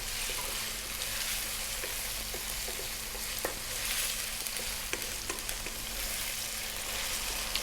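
Lamb curry with salt added fries in a pan, giving off a steady, loud sizzle. Scraping strokes and soft clicks of stirring come and go over it at close range.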